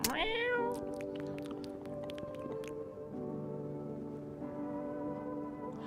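A cat in a video game meows after being fed, one clear, loud meow at the start followed by a sustained tonal hum and a run of quick clicking taps.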